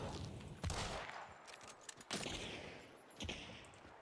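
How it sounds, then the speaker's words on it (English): A shotgun fired by a computer-controlled enemy in a video game, heard as several heavy, booming blasts at irregular intervals over a dense, noisy game background. "He's just tried to shoot me with a shotgun"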